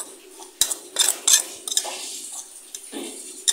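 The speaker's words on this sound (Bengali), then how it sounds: "এখন আমি গুঁড়াগুলাকে সুন্দর করে মিক্সড করে নেব।" Spoon scraping and clinking against a bowl while homemade spice powders for chicken rezala are mixed, in a few quick bursts of metallic clatter and scraping at close range, with no talking.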